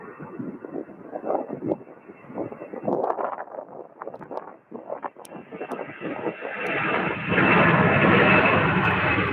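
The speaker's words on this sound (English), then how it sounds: "this is a UPS Airbus A300 taking off on 35 right" A UPS Airbus A300 jet takes off from runway 35 right at Louisville airport, a broad roar that builds steadily and swells to a loud, sustained rush of engine noise with wind buffeting the microphone.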